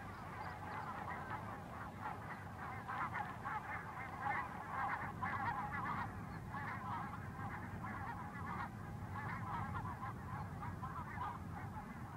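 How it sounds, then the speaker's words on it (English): A flock of geese honks steadily, many calls overlapping at a moderate distance over low background rumble. "Geese gaggle the fields"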